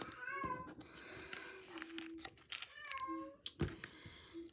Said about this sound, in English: sorry about the cats in the background